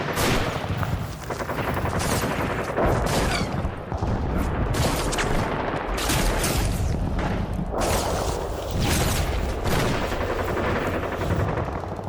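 Soldiers open fire in a short war film, with dense, continuous bursts of gunfire and overlapping shots loud throughout, no talk.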